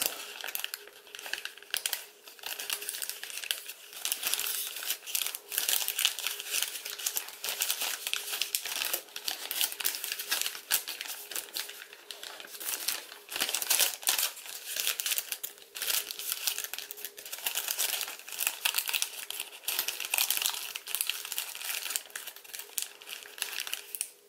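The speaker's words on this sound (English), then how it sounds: "I'll just crease it all the way down, actually. and then just fold up this final bit." Sheet of paper for a Satoshi Kamiya Ancient Dragon origami model being creased and folded, a close, steady crinkling and rustling that continues with small irregular bursts throughout.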